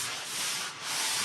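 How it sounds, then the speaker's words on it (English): Crew sanding wooden logs of a Montana homestead between coats of plant-based varnish, a steady close broadband rasp of abrasive rubbing that swells and dips slightly over a second and a half, with no talking. "We got the crew sanding the logs."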